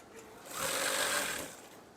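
A sewing machine stitching a curtain rope, one short burst of rapid whirring stitches that swells up and fades away within about a second, close and alone.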